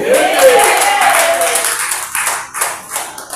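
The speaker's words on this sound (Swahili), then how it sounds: "Chapa makofi." An audience claps hands at a public address, a dense burst of applause that is loud at first and then breaks into scattered, fading claps.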